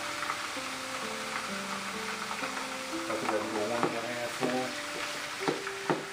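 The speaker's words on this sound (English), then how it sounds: "I want to brown my meat. I don't want to boil it." Cold beef browning in hot oil for pepper steak, a steady close sizzle and crackle that grows busier partway through, with someone talking over it.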